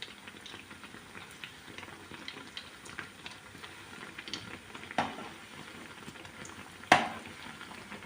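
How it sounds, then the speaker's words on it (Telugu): Alasanda vadas, black-eyed pea fritters, frying in hot oil in a kadai, with a soft continuous bubbling sizzle and two sharp knocks near the end. "బండిలో ఆయిల్ వేడెక్కింది. ఇంకా ఒక్కొక్కటిగా వేసుకుందాం."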